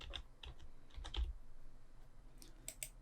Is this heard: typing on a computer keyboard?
yes